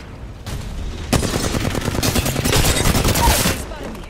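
Rapid video-game gunfire aimed at the player in a shooter, dense bursts of shots crackling continuously for several seconds, loud and close, with brief quiet before the volley starts.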